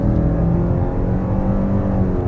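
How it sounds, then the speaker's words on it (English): Steady low engine and drivetrain drone inside a 2022 Subaru Ascent with a CVT, driving on street tires, loud and continuous with slight shifts in pitch, no talking. "It sounds like a CVT, but it is trying to make itself known as it's changing gears"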